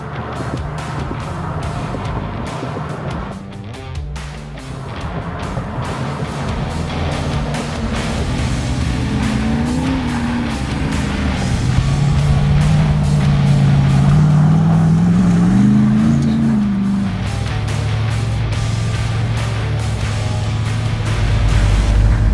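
A Jeep Gladiator with a 392 HEMI V8 drives over a bumpy trail, a loud, steady engine drone with rising and falling revs under rumbling wind and road noise.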